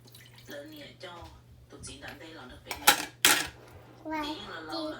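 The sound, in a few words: child washing dishes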